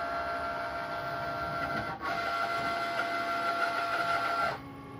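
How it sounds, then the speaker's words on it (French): A Cricut cutting machine cuts paper for a Christmas ornament with a steady, close mechanical whir and faint tonal hum. It dips briefly midway, runs on evenly, and then drops off just before the end. "Et donc là, elle va découper tout simplement."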